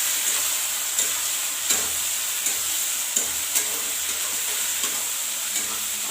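Peas and onions frying in a pan for matar paneer, a steady close sizzle and hiss with soft periodic scrapes of stirring, no voices.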